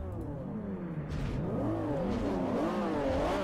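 Honda NSX-R race car engine in Forza Motorsport 4 revving up and down continuously, its pitch sweeping through repeated rising and falling shifts as the car accelerates away, loud and steady with no talking.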